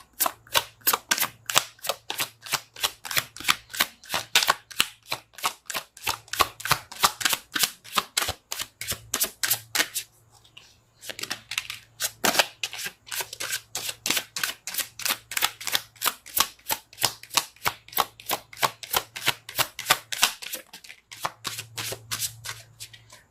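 Tarot cards being shuffled by hand in rapid, steady riffling bursts with brief pauses between runs, close and crisp with no talking.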